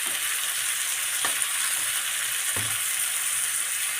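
Leek sizzles in a pan on an electric hob set to number 6, a steady close frying hiss broken by a few soft stirring knocks, with no voices.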